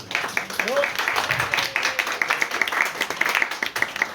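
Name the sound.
audience applause at literary conference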